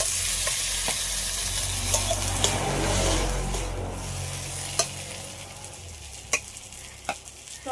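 Fried potatoes tipped into a pan of sizzling fish curry masala, a loud close hiss and frying crackle that slowly eases, with several sharp clinks and scrapes of the spatula toward the end.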